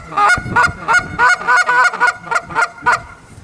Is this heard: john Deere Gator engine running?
no